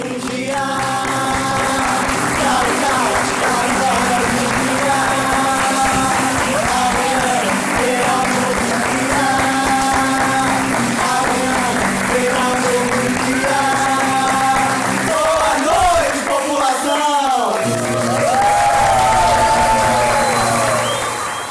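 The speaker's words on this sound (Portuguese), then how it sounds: "Os 4 atores cantam e agradecem aos aplausos." Four actors in a children's theatre show sing while an audience applauds after the performance; the loud clapping runs under the melodic singing and continues throughout, with a brief break in the song near the end.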